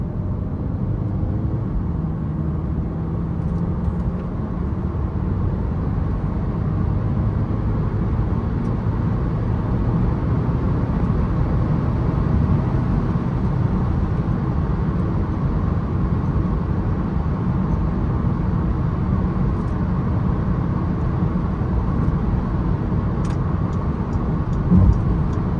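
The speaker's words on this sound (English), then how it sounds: "I'm gonna punch the gas." A stock front-wheel-drive Audi A3 accelerates hard on a straight road at night. A loud, continuous engine and road roar fills the cabin and holds strong for the whole stretch, with no talking.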